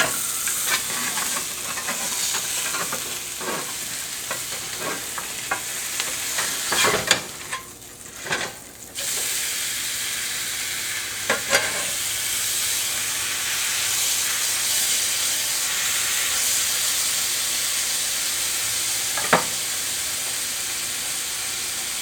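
An Oklahoma burger sizzles steadily in a cast iron skillet, a constant loud frying hiss with occasional spatula scrapes and pops throughout, no voices.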